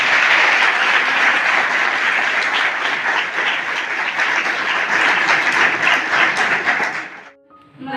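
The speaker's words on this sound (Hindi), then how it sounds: "तालियों के साथ स्वागत कर इनका" An audience at a college career-guidance event claps steadily to welcome guests, a dense, loud round of applause lasting about seven seconds before tapering off abruptly.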